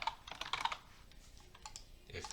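Fingers tap a computer keyboard in quick bursts of close, clicky keystrokes, with a brief lull in the middle before a few more presses near the end.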